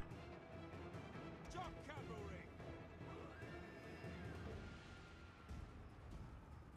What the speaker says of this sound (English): Too many horses for my liking.